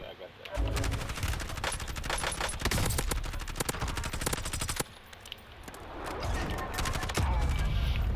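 Rapid automatic gunfire from Call of Duty crackles in dense bursts of sharp shots, loud and sustained, with a short lull and then more firing.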